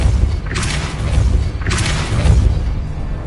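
A Depulso force spell is cast twice in Hogwarts Legacy, each one a booming thump with a rushing whoosh, about a second apart, over a low continuous rumble.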